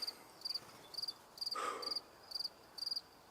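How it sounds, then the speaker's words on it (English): Cricket chirping right beside the microphone during an outdoor evening session, sharp rapid trills repeating in short regular bursts, close and clear over faint background noise, with no talking. "That loud cricket taking up the microphone space."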